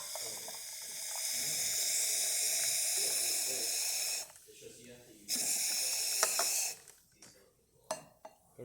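A La Pavoni Europiccola espresso machine runs only water in a soft steady hissing stream that cuts off briefly, resumes, then gives way to a few light clinks.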